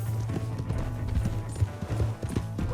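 Galloping horse hooves from the video game Red Dead Redemption 2, a rapid, steady clip-clop rhythm, close and fairly loud throughout.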